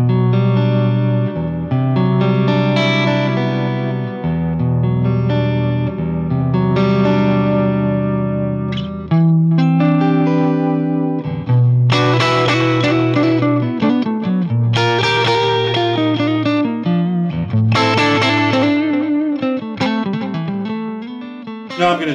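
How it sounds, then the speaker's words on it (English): Electric guitar played with a light touch through a Magnatone Single V tweed-style amp, sustained clean chords and melodic runs ringing close and steady for about twenty seconds with gentle effects, no voice. "I can play light and it sounds like this"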